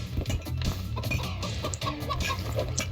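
A chicken clucking in the video game Moving Out, with short choppy clucks scattered over busy game music and effects throughout.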